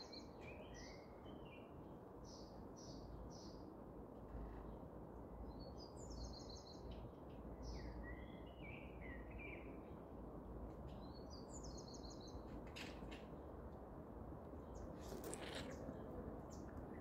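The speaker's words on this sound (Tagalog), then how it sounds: "Marami kaming ibon dito eh." Several birds call from a garden with roses, giving repeated short chirps and warbling phrases that rise over a steady broadband background hiss and carry moderately far off.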